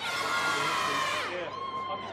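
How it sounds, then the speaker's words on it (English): New South Wales team supporters at the Little Athletics championships cheering together, a short burst of overlapping high-pitched shouts and whoops from a nearby group that trails off after about two seconds. "Can I hear your biggest cheer?"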